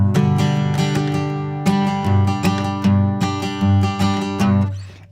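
Acoustic guitar strummed in a quick country-folk pattern, a steady run of bright, even strokes with accented downbeats, close and loud, played alone.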